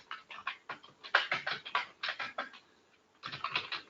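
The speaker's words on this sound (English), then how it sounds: "Just I am typing something." Rapid typing on a computer keyboard, a steady clatter of keystrokes with a brief pause before the tapping resumes, close and fairly quiet.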